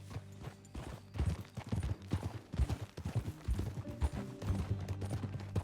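Horse hooves clip-clop in a steady riding gait in Red Dead Redemption 2, close and continuous beneath a low music bed, with no talking.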